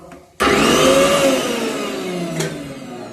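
A kitchen mixer grinder starts abruptly and runs with a loud, steady whine while grinding ingredients for an egg curry. No one speaks over it.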